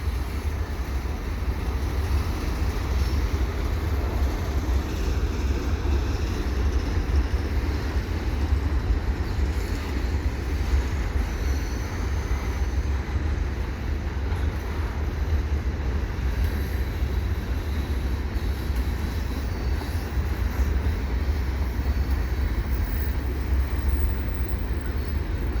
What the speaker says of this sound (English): Two trains going in the same direction too.